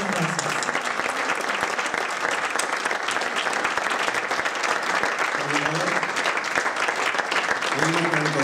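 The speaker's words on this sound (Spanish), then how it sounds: "Un fuerte aplauso para Mónica." Sustained, loud applause from an audience at an Argentine choral congress after a lecture, continuous dense clapping lasting several seconds, with faint voices underneath.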